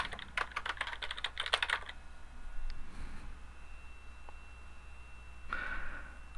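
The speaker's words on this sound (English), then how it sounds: "Let's type in the name of the first category." Someone types a category name on a computer keyboard, a burst of quick, close key clicks over about two seconds followed by a few sparse taps against quiet background hiss.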